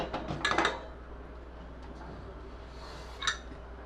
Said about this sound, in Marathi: आपण आता कुकर उघडूया